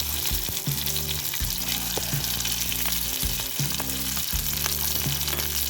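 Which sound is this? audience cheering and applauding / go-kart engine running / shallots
shallots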